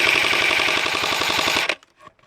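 Airsoft guns fire a rapid, evenly spaced stream of shots at an outdoor airsoft game, loud and close, then cut off abruptly into near silence with faint movement after.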